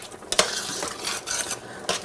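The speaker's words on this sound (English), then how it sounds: "stir it around" Rice and peas being stirred with margarine in a pot for a Jamaican dish, with close scraping and rustling strokes that come in uneven bursts and no talking.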